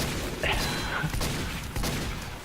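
Gunfire rattles in a video game shooter with a sniper weapon, dense and loud throughout, with several sharper cracks standing out from the busy background.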